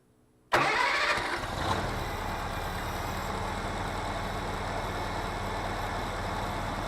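A 1977 International Cub tractor engine catches abruptly after a moment of quiet, roaring up loud and close before settling into a steady, rough idle that continues to the end.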